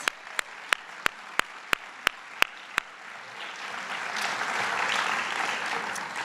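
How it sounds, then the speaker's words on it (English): About nine sharp, evenly spaced single claps ring out alone at first, then a broader round of audience applause swells and sustains at a school district tenure and retirement celebration. "So give yourself a round of applause."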